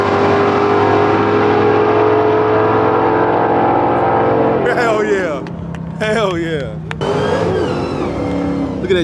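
A Jeep on a drag strip revs loudly and steadily before its engine note breaks into rising, wavering surges as it accelerates and slides sideways, with voices of onlookers talking over the second half.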